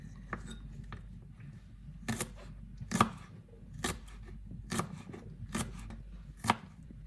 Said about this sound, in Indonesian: Ini aku di sini ada daun bawang. Kita potong-potong.